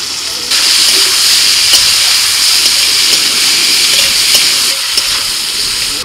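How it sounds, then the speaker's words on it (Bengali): Onion frying in hot oil with whole cumin and bay leaf, a loud steady sizzle and hiss that starts abruptly and continues close up throughout, with a few faint clinks. "গোটা জিরে তেজপাতা ফোড়ন দিয়ে পেঁয়াজ দিয়ে দিলাম।"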